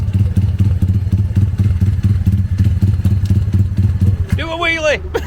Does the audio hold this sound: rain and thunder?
no